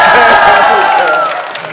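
An audience at a Buddhist college lecture at Unsusa temple in Busan shouts and cheers together in one loud, bright collective roar that swells and then fades over the final moments.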